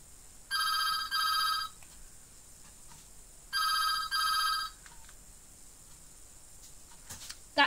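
An old Nokia 1100 mobile phone rings nearby in two bursts of bright electronic tone, each a quick double pulse, separated by about two seconds of quiet room.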